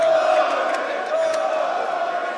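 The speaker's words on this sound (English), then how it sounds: "And you can hear the crowd" Esports arena crowd at the BLAST R6 Major Atlanta 2023 during a FaZe vs LOS Rainbow Six match, a steady roar of cheering and yelling filling the hall, broad and continuous with a few sharper shouts poking through.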